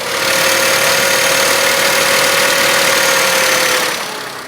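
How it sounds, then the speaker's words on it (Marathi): A three-cylinder Maruti Suzuki Dzire (2024) engine idles at a steady, loud hum with a faint whine and vibration, fading slightly at the end. "आता हे इंजिन स्टार्ट करून याच्यामध्ये मिळणारे व्हायब्रेशन्स चेक करूयात"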